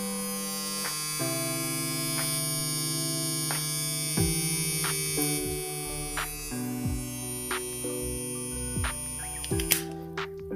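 A VGR V653 electric hair clipper runs with a steady buzzing hum, close and moderately loud, its tone stepping between pitches with faint clicks along the way.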